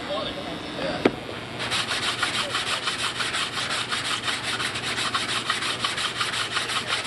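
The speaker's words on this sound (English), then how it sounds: "Make a little balsa plug, just like the repair video, shove it in there and sand it in right now" A balsa wood plug set into a model aircraft is sanded by hand, a quick, steady back-and-forth rasping at close range that starts after a sharp knock and carries on without pause.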